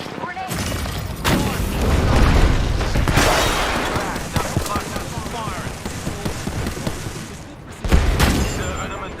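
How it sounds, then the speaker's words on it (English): A grenade blast in a first-person shooter lands as a loud, broad boom near the start, and a second heavy burst follows close to the end. Dense gunfire and battle noise fill the gap, and a voice talks over the action. "Grenade."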